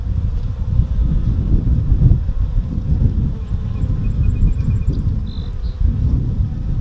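Honey bees cluster around their laying queen inside a hive, giving a dense, low buzzing hum that flickers unevenly, mixed with rough wind-like rustle, close to the microphone and without speech.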